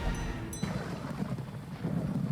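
Rain falls steadily in the Darkest Dungeon video game while a low thunder rumble rolls underneath, a dense, continuous wash of rainfall with a deep growl beneath it.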